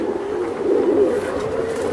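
Giribaz tumbler pigeons coo in a dense, low, warbling drone nearby, swelling slightly in the middle and running without pause under a faint background hiss.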